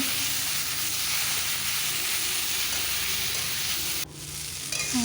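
Raw banana and potato pieces frying with turmeric and salt in a pan give a steady, close sizzle that runs almost throughout, dropping briefly near the end.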